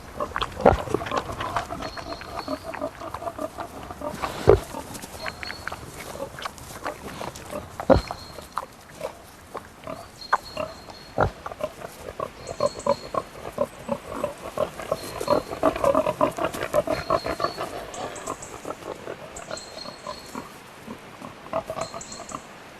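Pigs grunt and snuffle steadily while foraging on acorns and beech mast in a forest, with occasional louder squeals and snorts, close by outdoors with faint bird calls above.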